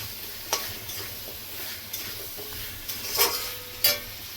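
Amaranth stems and spice paste sauté in oil with a soft continuous sizzle, broken by several sharp spatula taps and scrapes against the pan at irregular intervals.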